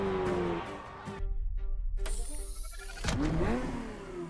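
A Ferrari F50 engine in the racing game The Crew Motorfest revs hard, rising whines broken by sharp gear changes and brief lulls, loud and close.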